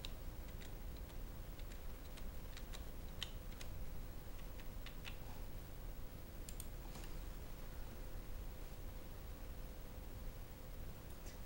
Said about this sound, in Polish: Wpisujemy hasło teraz.